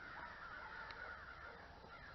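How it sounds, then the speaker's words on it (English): Crows caw outside a house, the calls faint and distant over a low, steady outdoor hiss, with no voices. "Hear the birds?"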